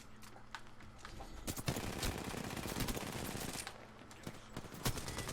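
Dense, continuous gunfire from an Xbox video game, rapid automatic bursts and scattered shots blending into a loud, sustained barrage that barely lets up.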